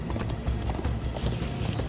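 Horse hooves clip-clop at a steady galloping rhythm in Minecraft: Story Mode, loud and close, with a faint mechanical rattle and a brief whinny, no talk heard.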